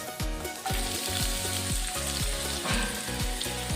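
A cup of onion fries in two tablespoons of hot oil with green chillies, a loud, continuous close sizzle with bubbling crackle throughout, no voices.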